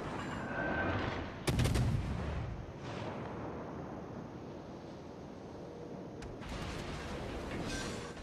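The Japanese destroyer Kagero fires its guns in a naval video game, a sharp booming blast followed by a rumbling tail, then a second, lighter shot against steady sea and engine ambience.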